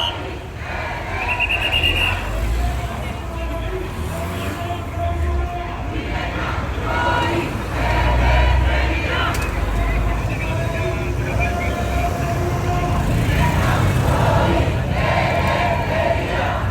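Street protest crowd near Syntagma Square in Athens, a dense wash of many voices and chanting, with a steady roar throughout and traffic noise mixed in.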